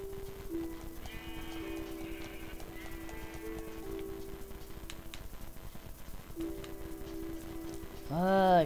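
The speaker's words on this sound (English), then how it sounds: "Sheep, stay away from my house." Sheep bleating in the Minecraft video game, Xbox 360 edition, a loud harmonic bleat bursting out near the end over steady rain-like game ambience and some background sounds.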